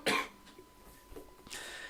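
A sharp, close cough bursts out at the start, followed by quieter shuffling and a second, softer cough-like burst.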